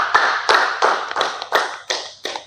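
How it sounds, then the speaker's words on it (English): Seven sharp, evenly spaced claps from a single pair of hands in quick rhythm, close and fairly loud, rather than a crowd's applause at a hosted guest event. "A round of applause for her, please."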